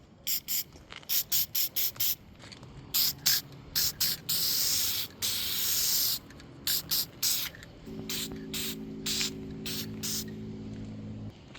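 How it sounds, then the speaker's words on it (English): Repeated short bursts of aerosol spray paint hissing on a 1969 VW Bus, some quick taps and a few longer sprays, with a faint mechanical hum building underneath later. "I'm just going to hit it with some spray paint"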